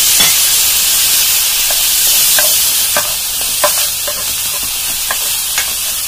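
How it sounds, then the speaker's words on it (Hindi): Chopped onion frying in a hot pan while samosa filling cooks: a steady loud sizzle and hiss throughout, with scraping stir strokes of a spoon against the pan recurring every second or so, no voices. "हम इसमें डालेंगे थोड़ा चॉप किया हुआ कांदा"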